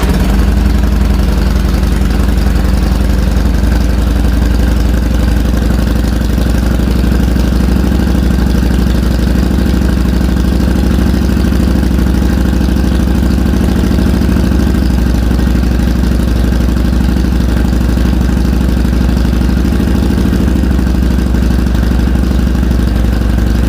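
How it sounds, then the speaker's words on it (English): A Harley-Davidson Sportster motorcycle engine runs at a steady idle, a loud, close, continuous low throbbing rumble that holds unchanged from start to finish with no voices. "So we're going to fire the bike up"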